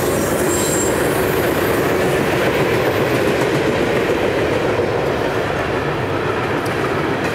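A train rolls past close by, a loud, continuous rumble and roar with faint clickety-clack that holds steady the whole time and drowns out everything else.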